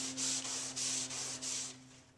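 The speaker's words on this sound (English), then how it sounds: "Sanding sponges work really well to get into these tight contours." A sanding sponge scrubs a wooden kitchen cabinet door in quick back-and-forth strokes, about five rhythmic rasping passes close by, with a faint steady hum underneath and no voices.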